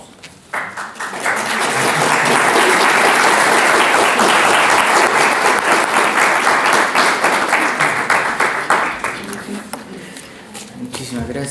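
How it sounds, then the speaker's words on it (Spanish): An audience at a conference on transformations in Chilean society applauds after a talk, a loud, dense burst of clapping that swells within two seconds, holds steady and then thins out toward the end. "Muchísimas gracias de haber aplaudido a Katia."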